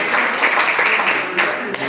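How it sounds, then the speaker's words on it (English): A crowd at a community issues forum gives a short round of applause for a volunteer, a dense wash of clapping from many hands held at an even level for a couple of seconds. "let's clap for Tammy"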